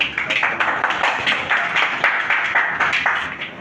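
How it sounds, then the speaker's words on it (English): A crowd of guests at a record label launch event in Lagos clapping steadily for several seconds, a dense, close round of applause. "Round of applause"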